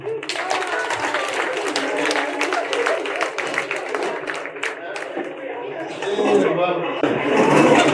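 A crowd applauds steadily for several seconds, dense clapping with some voices mixed in, swelling a little louder near the end.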